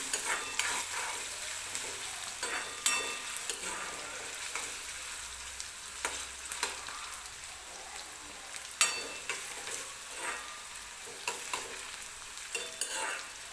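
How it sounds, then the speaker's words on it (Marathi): Onions fry in a pan for a spicy dry mutton dish until they turn reddish brown, a quiet continuous sizzle broken by repeated sharp spatula scrapes and clicks. "कांदा छान असा लालसरी रंग येईपर्यंत भाजून घेऊया आपण"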